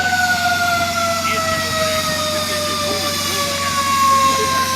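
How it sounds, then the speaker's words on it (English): A fire engine's siren wails steadily as it arrives on scene for an underground gas line emergency, holding a loud, continuous tone over rumbling engine noise. "As you can see, the fire department arriving on scene."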